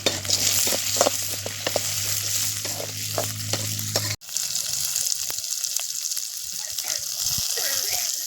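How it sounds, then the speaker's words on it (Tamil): Green chillies, garlic, chana dal, onion, roasted gram and a little tamarind sautéing in oil in a pan for a keerai thuvaiyal, with a steady close sizzle, scraping stirs and a brief cut partway through. "பச்சை மிளவா நாலு பூண்டு கடலப்பருப்பு வெங்காயம் பொட்டுக்கடல கொஞ்சமாக புளி இதெல்லாம் போட்டு வதக்கிடலாம்"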